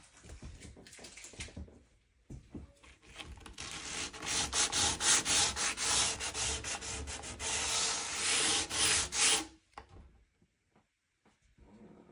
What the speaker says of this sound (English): Cutting the edge, trimming the edge, file, sandpaper if needed.